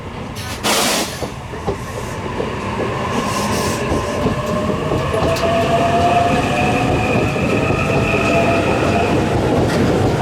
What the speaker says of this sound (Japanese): 特急日立3号が、仙台に向かって出発していきました。